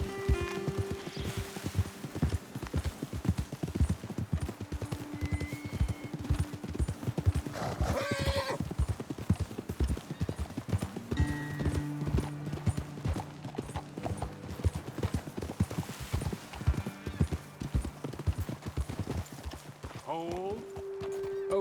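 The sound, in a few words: horses clip-clopping and neighing in Red Dead Redemption II video game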